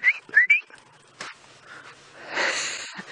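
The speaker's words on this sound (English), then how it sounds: "Sorry, that was me whistling." A person whistles on a sunrise safari drive at Karula, three short rising whistles up close, followed by faint breathy sounds and outdoor rustling.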